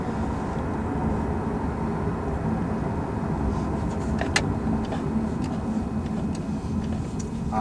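A 2017 Chevy Volt on a test drive, a low, quiet, steady road and cabin hum with faint tire noise and a few soft clicks, no talking.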